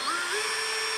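A power drill whirs briefly as it backs screws out of a KingSong 18XL electric unicycle, a steady high-pitched motor whine heard close and alone for about a second.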